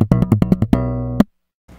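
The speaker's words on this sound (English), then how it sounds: "play it in a very familiar manner, just like hitting a drum" SlapStick stringed instrument laid horizontally and struck like a drum with no envelope filter: about eight quick, punchy plucked-bass hits, the last one left ringing before it cuts off, then a faint rustle.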